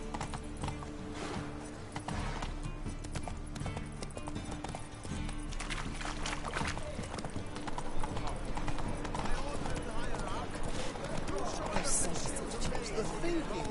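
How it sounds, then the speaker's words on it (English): Horse hooves clip-clop in a steady, even rhythm as a horse trots along in The Witcher 3 video game. A player talks over the hoofbeats, which stay moderately loud throughout. "Come on, Roach."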